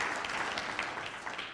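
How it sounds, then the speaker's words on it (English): Audience clapping at a city's State of the City address, a steady dense patter of many hands filling the room, moderately loud and continuous for the whole moment with no talk over it. "give them a big clap"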